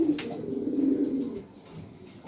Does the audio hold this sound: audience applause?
no